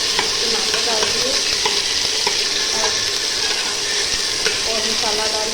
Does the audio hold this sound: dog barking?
no